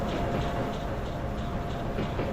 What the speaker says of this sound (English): I hear another train coming along. That's the sound it plays.